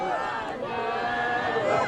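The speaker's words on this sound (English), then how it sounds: "This is the crowd up on the Esplanade by Edinburgh Castle." A New Year crowd on the Esplanade by Edinburgh Castle, a dense continuous roar of many voices cheering and chattering at a distance, steady and moderately loud.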